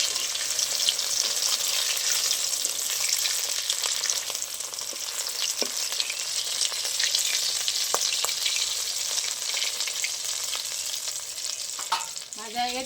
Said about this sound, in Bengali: তেলটা গরম হয়ে গেছে, এবার বানিয়ে রাখা কোপ্তাগুলো আমি দিয়ে দেবো এক এক করে।